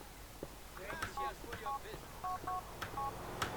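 Phone dialing in Grand Theft Auto IV: a series of short paired keypad tones beeping one after another at a steady pace, quiet, over a faint background hum.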